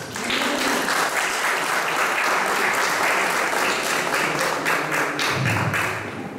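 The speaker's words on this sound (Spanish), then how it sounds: "Lo recibimos también con fuerte aplauso." An audience at an exhibition opening honoring an artist gives loud, dense applause that holds steady for several seconds, then thins toward the end.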